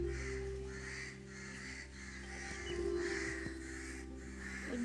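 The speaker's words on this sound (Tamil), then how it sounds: "வேறு காக்கா கத்தினே இருக்கு" Crows caw in repeated evenly spaced calls over a steady low background hum, with no one talking.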